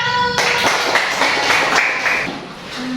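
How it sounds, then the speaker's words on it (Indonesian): A classroom of students claps together for group 1 after a problem-based learning lesson, a dense, steady patter of many hands that starts abruptly and fades slightly near the end. "Tepuk tangan untuk kelompok 1."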